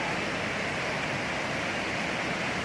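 Waterfall roaring in steady, broadband white-noise fashion throughout, continuous and fairly loud with no voices.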